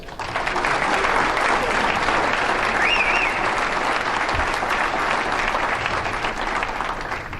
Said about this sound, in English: I believe he really deserves a round of applause.